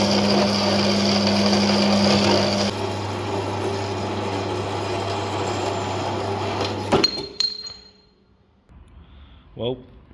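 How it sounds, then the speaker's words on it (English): A bandsaw cuts exhaust manifold pipe for a Peugeot 306 Dturbo, holding a steady, loud mechanical whine for about seven seconds before cutting off, followed by a few faint clinks. "I'm going to pop that in the jig and then we'll get that back in the bandsaw"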